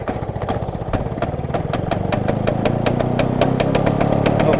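A Victa 460 Utility lawn mower with a 160cc engine starts and settles into a loud, close, rapid putter whose firing pulses steady and quicken slightly.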